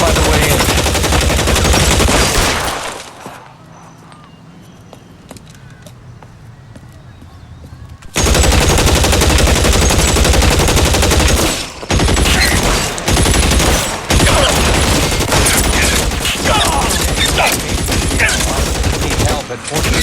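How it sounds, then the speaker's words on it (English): Sustained gunfire from the L.A. Noire video game, loud bursts of fusillade and machine-gun shots with a quieter gap in the middle, heard alongside game dialogue. "Shots fired and officers need help at 1452 North Las Palmas"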